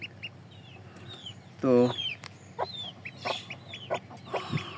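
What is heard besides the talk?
newly hatched chicks and hen clucking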